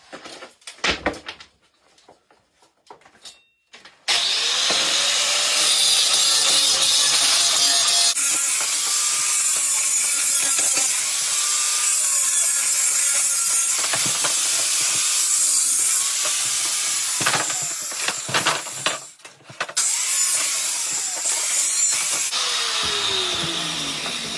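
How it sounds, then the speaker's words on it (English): Spokes of a scrap bicycle wheel are cut through one after another, giving a loud, continuous rasping cutting noise with short metallic squeals, preceded by a few seconds of quieter handling. "then what we're going to do next is we're going to cut all the spokes around this."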